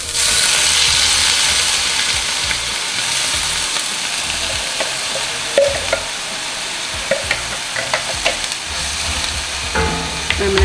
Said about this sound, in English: we're gonna stick our mixture of onion and garlic into the pan.